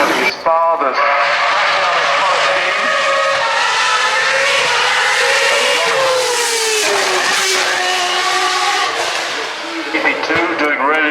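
A race car accelerates away up the Goodwood Festival of Speed hill climb, a loud rising engine note with gear-change sweeps, heard close and continuous under a commentator's voice.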